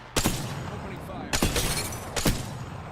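Three sharp, loud sniper rifle shots ring out in Apex Legends, spaced about a second apart, each a broadband crack with a short decaying tail over steady game ambience.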